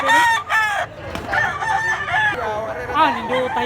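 A gamecock crows loudly and close by, with other fowl clucking and crowing around it in a busy, continuous chorus.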